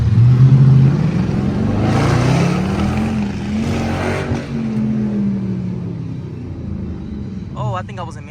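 A Dodge Charger R/T with a 5.7 engine rumbles and revs loudly up close while racing a widebody Hellcat in city traffic, the deep roar swelling and easing, with voices talking over it.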